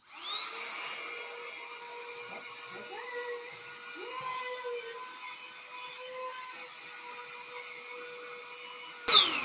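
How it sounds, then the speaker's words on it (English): A small handheld vacuum cleaner from a Temu haul switches on and runs for several seconds with a steady high-pitched motor whine, picking up breadcrumbs, then clicks off at the end. "let's see if it sucks up these breadcrumbs. So I'm turning on the power button."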